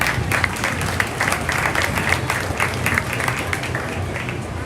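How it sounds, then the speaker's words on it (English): Crowd applause for exhibitors at a county junior fair beef show, sustained rhythmic clapping filling the arena at a steady level. "let's give all of our exhibitors a big round of applause"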